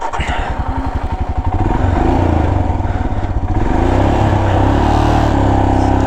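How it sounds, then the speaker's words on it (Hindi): KTM RC 390 motorcycle ridden on a mountain road toward Gangotri, its single-cylinder engine pulsing close and loud as it accelerates, then holding a steady droning note with wind rush. "बस अब चलते हैं बाइक से"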